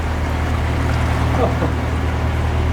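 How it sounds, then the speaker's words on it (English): Steady low engine drone of narrowboats motoring along a canal, continuous and fairly loud, with a faint watery wash over the top. "Well, we've got a flotilla of boats coming."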